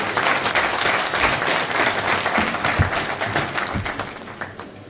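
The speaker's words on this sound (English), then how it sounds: "Please let's give another round of applause to all the young people who have spoken." Audience applause at a book launch in Kenya, thanking young speakers: a loud, sustained wash of many hands clapping with a few sharper claps standing out, continuing for the whole stretch.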